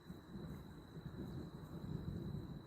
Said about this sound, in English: there was some thunder if you could hear it.